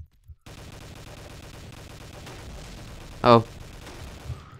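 Gunfire from a weapon in the browser shooter Army Force Online, a steady rattle of game shots under a player's brief exclamation, with one louder blast standing out near the end.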